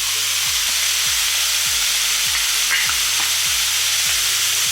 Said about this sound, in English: Once your ground beef starts browning and the process is completed,